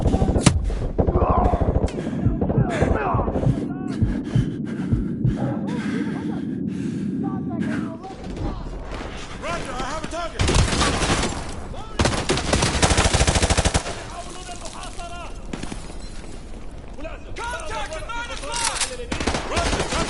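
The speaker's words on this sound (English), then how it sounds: "We're taking heavy fire from the school." A video game battle at a school has dense bursts of machine-gun fire and heavy gunshots with booming impacts throughout, with voices shouting over the shooting.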